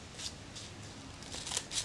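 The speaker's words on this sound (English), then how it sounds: "take a pair of scissors" Scissors cut through folded baking parchment in a kitchen while a circle is shaped for a cheesecake base, giving a few quiet, crisp snips and paper rustles with no talking.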